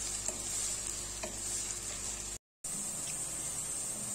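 Chopped onions frying in a pan toward light pinkish-brown, a dense steady sizzle with faint stirring scrapes, interrupted by a brief silent gap before the frying resumes, no speech.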